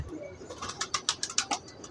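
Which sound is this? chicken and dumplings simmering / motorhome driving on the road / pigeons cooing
pigeons cooing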